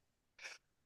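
A single short sneeze, a quick breathy burst lasting under a quarter second, fairly close against a quiet room background.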